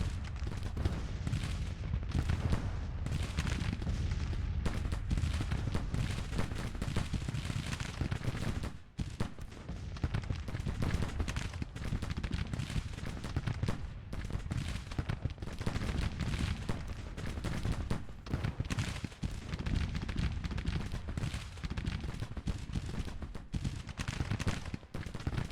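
Artillery and musket fire rumble in Grand Tactician: The Civil War as a battle plays out. The cannon booms and crackling volleys run continuously, dense and layered, with no voices over them.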